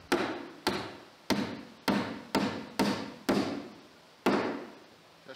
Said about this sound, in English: I tried several different nails for nailing the LP siding, and this is what I chose.